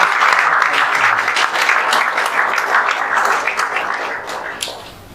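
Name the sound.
loud audience applause for students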